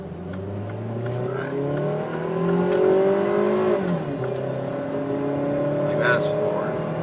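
A 2008 Ford Fusion SEL with a four-cylinder engine accelerating at full throttle, its engine note rising steadily in pitch, heard from inside the car along with road and wind noise while a person talks.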